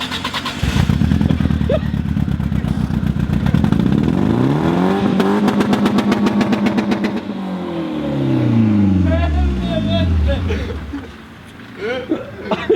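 A loud, raw BMW E36 engine with its exhaust cut in half revs repeatedly, pitch sweeping up and down in sharp bursts, then settles to a rough idle; voices speak briefly near the end.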